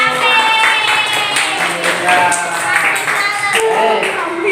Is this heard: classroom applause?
yes